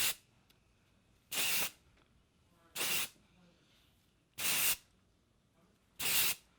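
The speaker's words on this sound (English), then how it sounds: "It's a texturizing and volumizing spray." A texturizing, volumizing hair spray can is sprayed in four separate bursts, each a close, loud hiss lasting about half a second, with quiet gaps between them.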